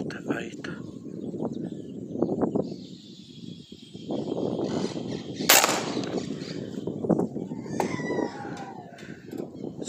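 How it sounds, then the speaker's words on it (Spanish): A sharp gunshot cracks out mid-clip, with fainter shot-like pops around it, during outdoor dove shooting at trees, amid birds and quiet voices. "Estamos acá haciendo unos tiros ahí a los árboles"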